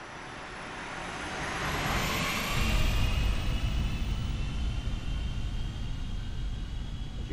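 Airbus A319 in X-Plane 11 on final approach with flaps set and landing gear lowering, a steady broadband engine and airflow roar that swells around mid-clip and holds loud, with no talking.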